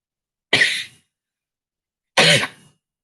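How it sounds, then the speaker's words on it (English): A sudden sneeze bursts out close by, followed a moment later by a single sharp cough, with silence around both. "I'm going to sneeze."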